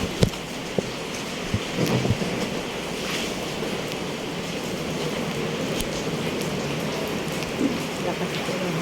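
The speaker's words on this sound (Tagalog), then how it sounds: "Lakas ng hangin." Strong typhoon wind and rain roar as a dense, steady wash of noise, with occasional knocks and clatters and a voice speaking faintly under it.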